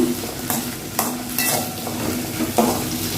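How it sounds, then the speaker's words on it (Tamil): Onions and garlic sauté in a pan for an okra tamarind curry, with a steady close sizzle under repeated scraping stir strokes and a few sharper clinks. "வெங்காயத்தோடைய வெள்ளைப்பூடையும் சேர்த்து வதக்கலாங்க"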